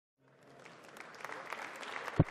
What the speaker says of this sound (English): And again, a ripple of applause there for Mick Todd